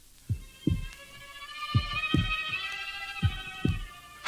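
A heartbeat sound effect thumps steadily in paired low beats, lub-dub after lub-dub, over a sustained droning musical hum, close and moderately loud.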